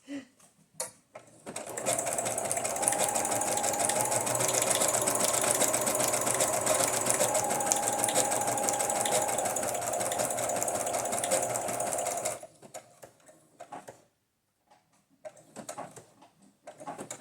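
A sewing machine stitching through paper for junk journals, running as a fast, even mechanical chatter for about ten seconds, framed by a few short bursts of stitching before and after.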